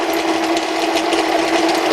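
A 6 mm drill bit cuts steadily through material while making a tool holder for a mini grinder, giving a loud, continuous, close-up whirring grind with no pauses.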